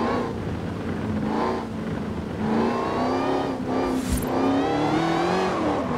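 A tuned Fast X flip car revving and driving fast in Forza Horizon 5, engine note climbing through the gears with a sharp shift and brief tire squeal, loud and close, no talk.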